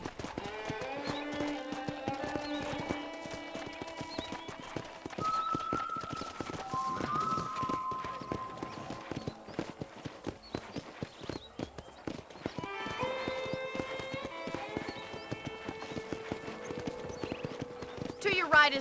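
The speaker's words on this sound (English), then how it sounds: "let's see if you can still ride a horse" Horse hooves clip-clop steadily in Red Dead Redemption as the rider tours a ranch, the rhythmic footfalls running throughout under music, with a voice talking over them and a brief whinny.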